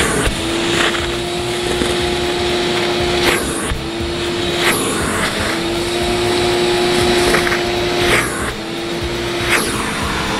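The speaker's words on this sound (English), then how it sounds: "let's fire up the shop vac and see what happens" A shop vac runs on carpet during spot removal, a loud steady motor whine with a sustained tone, broken every second or so by sharp bursts of suction as the nozzle passes over the floor.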